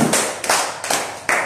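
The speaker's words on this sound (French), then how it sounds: "Applaudissez pour vous." Clapping from an audience in a self-development session, arriving in short, loud bursts of claps that start and stop several times in close succession.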